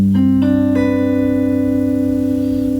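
An unusual jazz guitar chord is strummed as notes enter one after another, then rings out sustained and clear, fading slowly.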